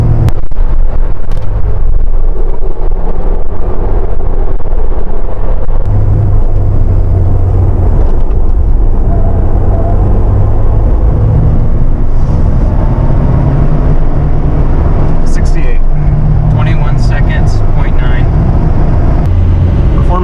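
A Ford Bronco Heritage Edition in sport mode accelerates hard from 30 mph onto a freeway, a loud, sustained engine and road rumble filling the cabin while someone talks over it.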